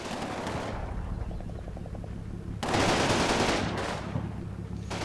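Machine gun fire in a war strategy video game, with an enemy machine gun team firing in bursts; a continuous rattling barrage fills the clip, growing louder and denser in the second half.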